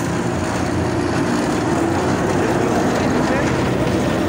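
Bangladesh Railway locomotive 2406 at a washing pit, a loud, constant broadband engine roar close by, steady for the whole stretch with no breaks.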